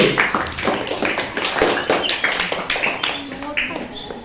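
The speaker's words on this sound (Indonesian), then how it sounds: "Berikan tepuk tangan untuk regu B." A quiz audience at an Indonesian religious gathering claps for the winning team, a lively run of individual claps at close range with some voices mixed in.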